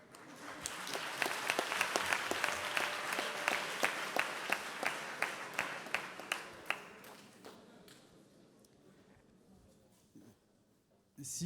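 An audience at a French oratory contest final applauds, a dense roll of clapping that stays steady and fairly loud before thinning into scattered claps and fading near the end.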